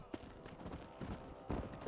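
Galloping hooves of a running horse herd in Red Dead Redemption, a fast uneven clip-clop in close bursts over a constant low background, with a few stronger hoof strikes standing out.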